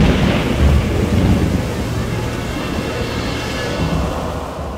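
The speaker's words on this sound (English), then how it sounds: "There's a storm coming." An approaching storm rolls in with a deep, sustained rumble of thunder beneath steady rain and wind, loud and continuous throughout with no voices.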